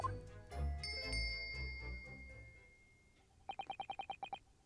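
A bell rung by pulling a bell cord in The Great Ace Attorney: Adventures gives a rapid run of about eight bright, evenly spaced chimes near the end. A soft musical game backdrop fades out before them.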